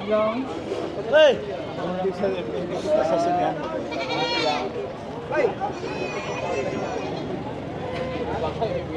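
Goats bleat repeatedly at a livestock market in Padre Garcia, Batangas, their wavering cries rising now and then over nearby chatter and general crowd noise.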